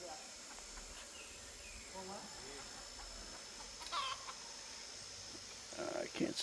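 A chicken clucks faintly in a jungle in Baybay, Philippines, a few short, distant clucks under steady insect buzz and ambient hiss, with brief bursts of nearer noise toward the end.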